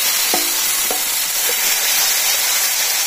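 Shrimp sizzling and frying in a pan while being stirred, a steady loud hiss throughout, with a few short clinks of the utensil near the start.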